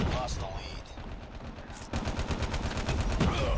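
Rapid gunfire in the Call of Duty Mobile video game, bursts of automatic shots crackling in quick succession that grow denser and louder in the second half, with no talking.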